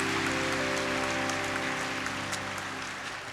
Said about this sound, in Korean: 박수를 한번 뜨겁게 했습니다